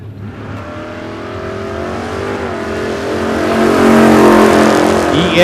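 Sportsman-class drag racing car making a solo bye run at an ANRA season finals eliminations event, engine loud and close, building steadily in pitch and volume as it accelerates down the strip.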